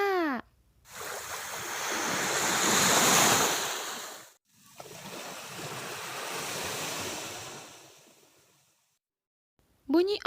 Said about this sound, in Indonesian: Bunyi ombak jika ditulis biur, biur, biur.